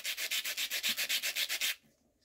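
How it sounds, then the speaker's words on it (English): Sandstone from the Longyou Caves in China being sanded by hand, a quick steady run of about a dozen rhythmic gritty rubbing strokes, close and fairly quiet, then stopping. "This is sanding away like crazy. It's so easy to sand it down."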